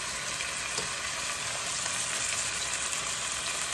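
Snow peas stir frying over medium heat in a pan, a steady close hiss and sizzle running unbroken throughout with faint stirring.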